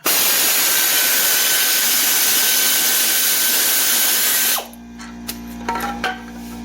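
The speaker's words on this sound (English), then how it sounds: "And my compressor is going off, of course." Air compressor running loudly in a garage during a transmission service on a 2002 VW Beetle, a continuous hard, humming drone that cuts off abruptly, followed by faint clicks and small workshop noises.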